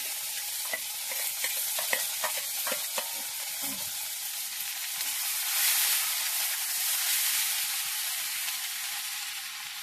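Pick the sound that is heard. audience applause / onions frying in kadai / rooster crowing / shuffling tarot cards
onions frying in kadai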